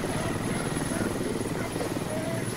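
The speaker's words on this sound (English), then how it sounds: "Oh, that Blackhawk's still chasing us!" A Black Hawk helicopter in a video game thunders close and loud, with a continuous pulsing rotor chop and engine roar throughout, while people talk over it.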